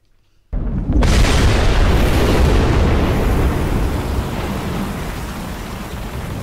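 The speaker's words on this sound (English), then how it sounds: "There's the distress rocket going up." A distress rocket launching in a Roblox sinking ship game: silence, then a sudden loud blast at about half a second settling into a long steady roaring rush that slowly fades.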